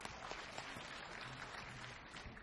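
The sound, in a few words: audience applause for the questioner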